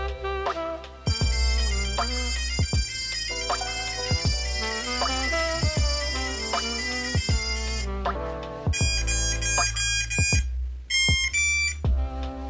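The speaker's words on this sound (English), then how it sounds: "it actually beeps to let you know what kind of signal it's using as well" A sequence of electronic beeps and rising musical tones from an FPV drone's BLHeli ESC custom startup tones, steady and fairly loud, with short pauses between bursts near the end.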